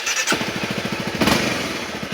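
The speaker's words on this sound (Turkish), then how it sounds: "Hani çok güzel bir egzozu var, çok iyi bir sesi var bana göre." A Honda CBR250 motorcycle engine pops and putters in a rapid, uneven exhaust rhythm up close, with a brief rev swelling partway through.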